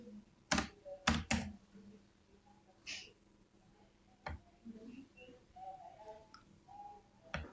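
Keys clatter on a computer keyboard as a message is typed, faint and close, in a few quick bursts and scattered single taps.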